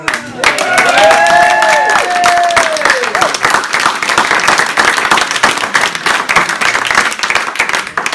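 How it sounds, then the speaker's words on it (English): Audience at a magic show breaks into loud, sustained applause and cheering close by, with whoops and whistles rising over the clapping early on before it settles into steady clapping. "they're all going to go into a massive round of applause for you"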